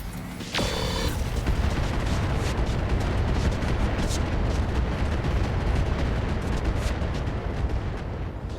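Mech weapons and explosions from RogueTech, a BattleTech mod, strike with a sharp impact, then a continuous loud, rumbling barrage of booms and bursts that lasts throughout.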